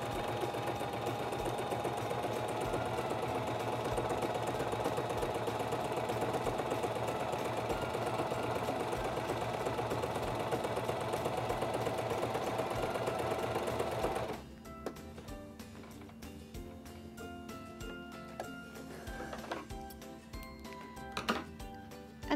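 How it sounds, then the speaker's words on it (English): A Singer 2273 Esteem II sewing machine running a feather stitch, a steady close mechanical whir for about fourteen seconds that then stops, leaving quieter handling clicks and taps. "So I'm going to test sew it out."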